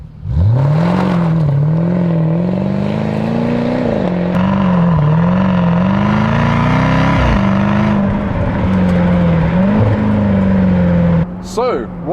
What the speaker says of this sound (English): this glorious V8 soundtrack